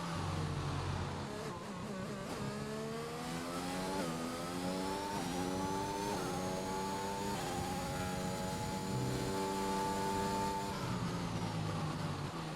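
A Formula 1 car engine in F1 2021 racing around the Shanghai circuit in China, loud and close, climbing through repeated rising revs with gear changes, no talking.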